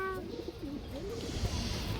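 Palla line pigeons coo softly in a low, wavering throaty call that rolls on for a couple of seconds, close by over faint background noise.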